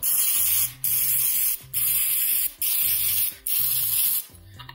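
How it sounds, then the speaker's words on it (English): A pump sprayer spraying oil onto chicken wings hisses in five steady bursts separated by short pauses, loud and close, with a low mechanical hum under each spray. "So now I'm going to use the sprayer again, pump it up a little bit, get a little pressure in there."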